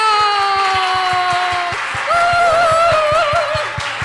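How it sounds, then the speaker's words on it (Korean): A church congregation claps for a pastor in broad, dense applause that fills the whole stretch, with a sustained tone and feedback-like ringing from the sound system over it. "우리 박수!"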